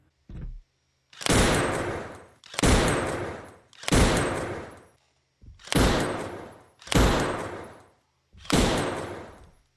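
Six loud pistol shots from the Half-Life: Alyx video game, fired through a haptic gun controller, ring out at a steady, evenly spaced rhythm, each a sharp crack with a decaying tail, after a brief thump at the start.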